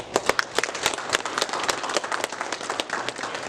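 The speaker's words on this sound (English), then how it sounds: "please join me in recognizing the school board members with a round of applause" A round of applause at a county school board meeting honoring board members, sharp individual claps layered into steady clapping from a modest crowd for several seconds.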